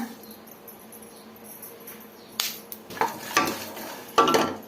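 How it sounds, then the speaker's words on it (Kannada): Poppy seeds poured into a pan of coconut and spices for a gojju and stirred, soft rustling at first, then several sharp clinks and scrapes of a spoon against the metal pan, close by. "ಈಗ ಗಸಗಸೆನೂ ಸೇರಿಸ್ಕೊಳ್ಳೋಣ"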